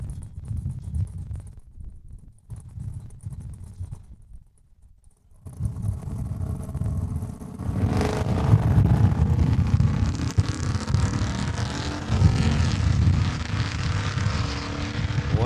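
A burgundy Dodge Ram pickup grudge racing down the drag strip at Saskatchewan International Raceway. A low rumble swells into a loud, sustained roar with wind buffeting, then holds steady to the end.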